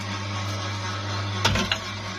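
An electric home winch hoists a butane gas cylinder up to a balcony: a steady motor hum runs throughout, broken by two short clunks near the end.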